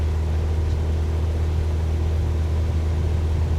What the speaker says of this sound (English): Juliet Foxtrot 104 cleared for takeoff runway 28